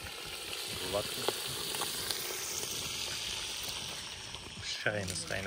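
Fish frying in a pan at an outdoor May picnic, a steady sizzle spreading across the whole clip, with people talking nearby over the hiss.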